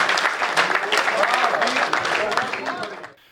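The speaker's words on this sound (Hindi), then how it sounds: "जरा हाथ उठाइए, ताली बजाइए आप राज कौशिक" A poetry recital crowd greets poet Raj Kaushik with loud, dense clapping that holds steady for a few seconds, then quickly fades away at the close.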